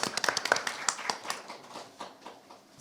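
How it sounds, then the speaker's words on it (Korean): An audience at a medical association candidates' debate gives brief, moderately close applause of scattered claps. The claps thin out toward the end. "박수 부탁드립니다"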